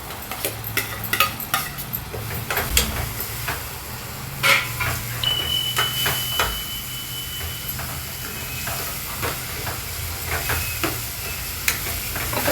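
Onion-tomato masala with garam masala fries in oil for paneer bhurji, a soft steady sizzle under repeated sharp scrapes and taps of a spoon stirring against the pan, close by, with no one talking.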